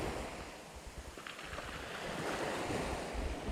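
Waves wash onto a sandy beach shore where squid fishing goes on, a continuous surf rush with gusting wind buffeting the microphone throughout.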